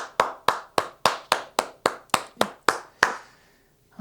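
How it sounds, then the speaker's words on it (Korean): Clapping at a church Sunday worship service: about eleven crisp, evenly spaced claps in a steady rhythm, close and clear, then it stops into silence. "우리 예배를 신실하게 받으신 하나님께 우리 다시 한번 큰 영광의 박수 올려드리겠습니다"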